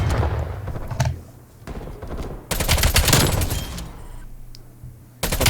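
QBZ-83 assault rifle gunfire in Black Ops Cold War: loud, close bursts of rapid automatic shots, with a short pause after the first second and a longer gap before a final burst.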